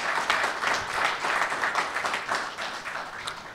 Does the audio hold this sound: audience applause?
yes